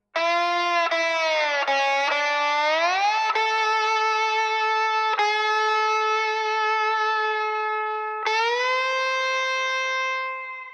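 A dry, unprocessed slide guitar part plays loud and alone, its bright sustained notes gliding smoothly up and down between pitches, with a few sharp re-attacks along the way.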